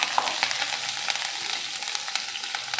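Curry leaves and green chilli pieces crackle and sizzle in hot oil, a dense, close, continuous frying hiss with scattered sharp pops and no talk.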